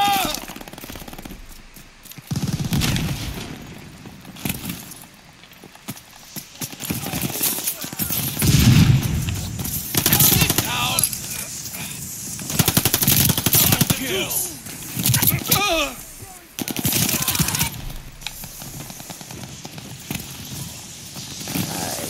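Automatic gunfire from a machine gun in Call of Duty: Vanguard, dense bursts over about twenty seconds with brief pauses, mixed with other game sounds and heard under ongoing talk from a player.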